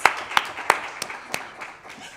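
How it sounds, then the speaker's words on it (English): Scattered handclaps from a small audience at a research festival: a few distinct claps ring out in an uneven rhythm and then fade, with no sustained applause. "Let us applaud on that"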